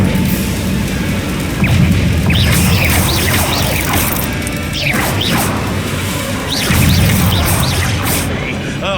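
Incendio fire spell cast in Hogwarts Legacy, heard as repeated whooshing blasts and crashing impacts over a rumbling low layer, loud and continuous through the fight.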